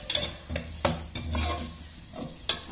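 Carrot, beans and capsicum sauté for egg fried rice, a spoon scraping and stirring them in irregular strokes over a gentle sizzling hiss, close and fairly quiet.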